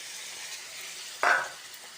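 Masala for an eggplant gravy hits a hot pan as a splash of water goes in, making a single short, sharp sizzle burst that fades quickly over a soft background hiss.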